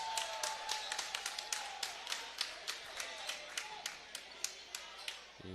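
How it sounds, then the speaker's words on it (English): Families applaud at a high school varsity basketball senior night in Brooklyn, clapping faintly and from a distance in a steady rhythmic beat, with quiet chatter underneath. "You hear the cheering section."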